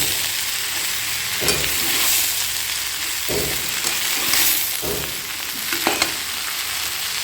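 Rice for prawn pulao is fried and stirred in a pan to dry off the water. Loud, steady sizzling comes close up, broken by several heavier scraping strokes of the spoon at uneven intervals.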